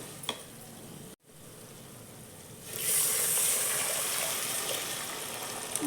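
About four cups of water go into a hot pan of golden-fried moong dal for pongal; after a quiet start and a soft clatter, a loud, sustained sizzling hiss rises and holds.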